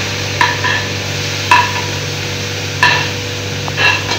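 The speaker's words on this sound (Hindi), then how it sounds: "अब डाल देते हैं इसमें अनियन प्याज," Onions added to a pan and stirred while frying for pav bhaji, heard as four sharp metallic clinks of a spoon against the pan at spaced intervals over a low steady hum and faint sizzle.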